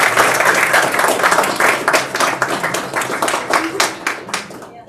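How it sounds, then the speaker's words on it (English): Audience applause at a startup investor pitch event in New York, steady dense clapping from a room of people that holds throughout and tapers off at the end. "Please clap it up for Paulina"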